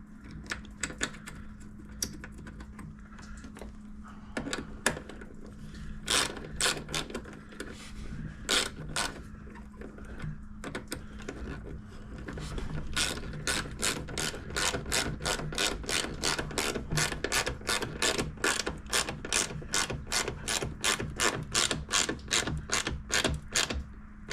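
Tightening the battery strap on an ATV, heard as scattered close mechanical clicks that settle into a long, even train of rapid ratcheting clicks, with no voices.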